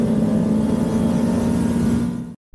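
A 2023 Kawasaki ZX25RR motorcycle engine running at high revs, a loud, steady, buzzing drone held close for over two seconds before cutting off abruptly.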